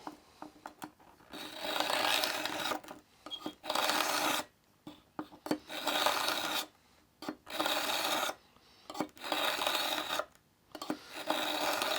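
A knife blade is drawn repeatedly through the fine side of a Pocket Pal handheld sharpener, producing gritty rasping strokes in irregular bursts separated by short silent gaps.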